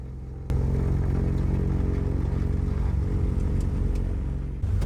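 Airline-operated piston aircraft engines start up with a sudden loud onset, then run in a steady, heavy rumbling drone. The sound stays close and continuous until it dips briefly near the end.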